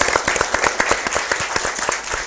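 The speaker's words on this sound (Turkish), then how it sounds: "Alkış alalım." A small group claps together at an outdoor gathering in rural Anatolia, a short burst of fairly loud, distinct hand claps with an uneven rhythm and no voices over it.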